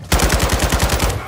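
Loud, close machine gun fire in Call of Duty: Modern Warfare II, a rapid burst of about a dozen evenly spaced shots in one unbroken string.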